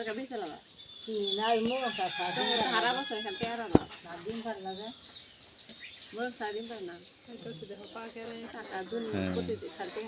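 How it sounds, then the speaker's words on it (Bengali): Hens cluck nearby in short, repeated calls while pecking at eggshells, mixed with a person talking over them. "এই যে মুরগি ডিমের খোসাগুলো খাচ্ছে"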